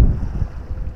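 Strong wind buffeting the microphone at sea during a spin-fishing trip, a dense, close, low rumbling roar that fills the whole moment with no voices.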